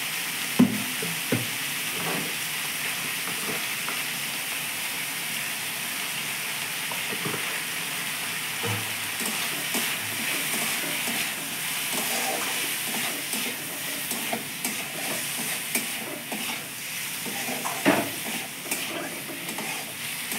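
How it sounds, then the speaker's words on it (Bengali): Meat with salt and turmeric sizzling in a pan, a long steady hiss of frying with occasional clicks and scrapes of stirring, close by. "বন্ধুরা এই যে দেখো আমার মাংসটা ভাজা হয়ে গেছে"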